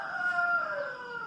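A rooster crows once, a drawn-out harmonic call lasting just over a second, clear and fairly close, with no voices.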